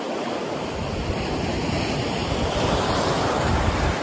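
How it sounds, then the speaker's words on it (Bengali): Ocean waves break on the shore in a steady, broad rushing surf with wind buffeting the microphone, close and continuous, with no one speaking. "ও অনেক বড় ঢেউ।"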